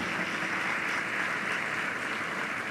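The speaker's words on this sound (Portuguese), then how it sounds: "Vamos dar uma salva de palmas para quem serve no Na Madruga" Steady applause from a church congregation honouring volunteers of a social ministry for street people, a dense continuous wash of clapping filling the room from start to finish without a break.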